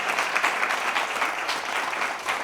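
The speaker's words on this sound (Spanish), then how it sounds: "no sin antes un fuerte aplauso para la organización" Applause from an audience at a Spanish mystery-themed talk, a steady, dense clatter of many hands clapping throughout, fairly close and with no speech over it.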